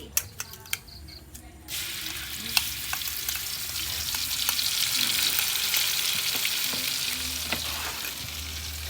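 Ground spices and chili paste fry in oil for northern Thai nam prik ong with minced pork, starting with a few clinks before a loud, continuous close sizzle takes over and holds steady to the end.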